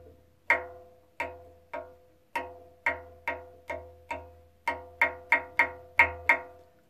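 A clay darbuka (doholla) is struck with repeated deep kick strokes, about fourteen separate resonant thumps with short decays, spaced unevenly and then quicker toward the end, close and alone.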